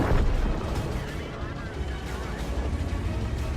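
Tank cannon fire in the video game World of Tanks, with a heavy booming blast at the start and a rumbling, sustained low roar of battle noise continuing throughout.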